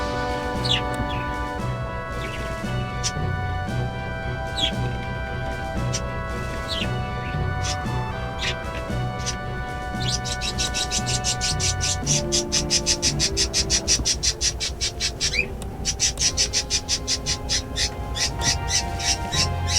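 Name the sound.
birds chirping in the room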